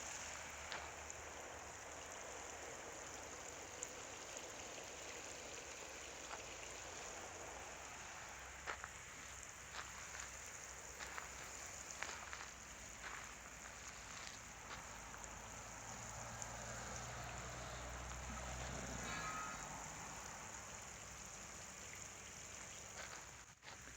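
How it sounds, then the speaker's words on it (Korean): Steady, soft rushing of flowing water fills the background of a succulent plant farm, faint and continuous, with a few light ticks and a low rumble swelling briefly. "물소리가 시원하게 들리고 있습니다."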